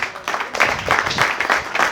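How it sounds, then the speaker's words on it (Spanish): A church congregation claps together in a steady, fairly loud run of applause that lasts under two seconds. "Aplaude al Señor."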